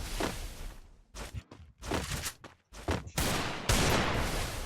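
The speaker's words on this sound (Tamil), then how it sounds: "மேல ஏறி ஏர்ல இருக்கும் போது தான் புல்லட் விடுவேன்" Bursts of gunfire in a shooting video game, fired during jumping shots, come as short rapid volleys with brief gaps between them, close and loud.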